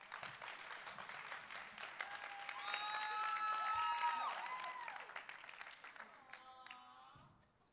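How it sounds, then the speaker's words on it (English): An audience at a mentalist show gives a round of applause, with steady clapping that swells in the middle alongside whistles and cheers, then fades away. "give them a round of applause"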